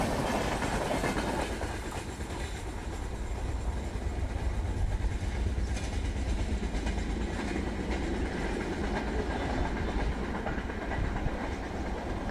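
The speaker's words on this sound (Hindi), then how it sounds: "कभी कर्व बनाती हुई ट्रेनें, कभी जंगल से गुजरती हुई, कभी डीजल, कभी इलेक्ट्रिक" A train rolls along a curving railway track in India, a constant heavy rumble with rapid clickety-clack of wheels over rail joints, loud and close throughout, with no voices.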